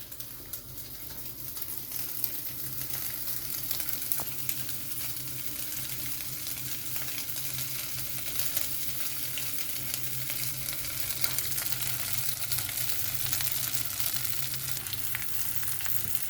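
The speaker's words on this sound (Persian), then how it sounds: "بریم برای سرخ کردن کالباسا" Sliced bologna sausage frying in a pan for a sandwich, a soft, even sizzle with light crackles running steadily throughout at a low, close level.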